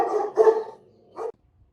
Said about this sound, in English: That was the cat across the street who knows that Luna can't get to her